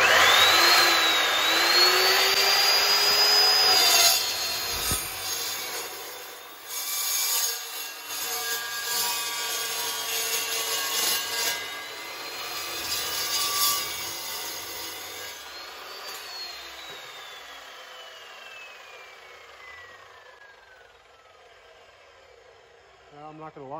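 An Evolution cold cut saw whines up to speed and grinds steadily through material, then spins down with a falling whir before going quiet.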